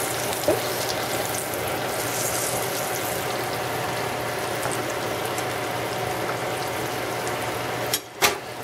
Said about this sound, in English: while those are cooking